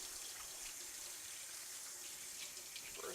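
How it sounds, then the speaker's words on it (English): Hands being washed under a running kitchen tap while cooking succotash, a steady close hiss of flowing water splashing into a sink for a few seconds, with no voices. "first gotta wash all this off my hands"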